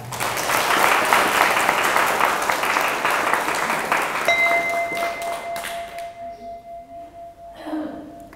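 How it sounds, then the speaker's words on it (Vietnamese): Audience applause at a Buddhist dharma talk, a full, sustained clapping crowd that gradually thins out and fades, with a few ringing bell-like tones sounding as the clapping dies away. "thì hãy dâng cao vào tràng vỗ tay."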